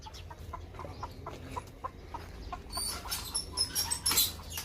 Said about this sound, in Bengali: এগুলি ছোট মুরগি।